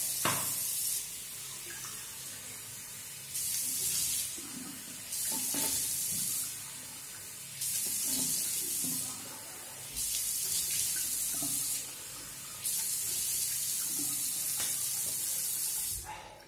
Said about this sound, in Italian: Il pennellino, risciacquiamo anche il viso.